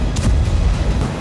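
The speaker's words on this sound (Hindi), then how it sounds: "हेलीकॉप्टर की आवाज गूंज रही है और रह रहकर धमाके हो रहे हैं।" Explosions from an Israeli helicopter attack in a border area ring out as a rapid cluster of loud, booming blasts over a low rumble, all within about a second.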